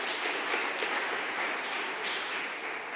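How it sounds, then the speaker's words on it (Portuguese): Congregation at a church service in Campo Grande, MS, claps steadily in a dense, even wash of applause that holds at a moderate level, with no talk above it. "Vamos aplaudir o Senhor, gente?"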